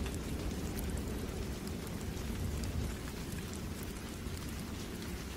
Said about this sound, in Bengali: বৃষ্টি তখনও থামেনি।